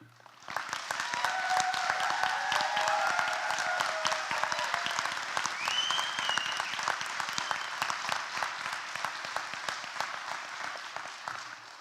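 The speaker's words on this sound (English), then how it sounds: "So you know what that means? We get to clap for you." Sustained applause from a commencement audience for a graduating nursing class at a pinning ceremony, dense clapping rising quickly and holding steady for about ten seconds before slowly thinning.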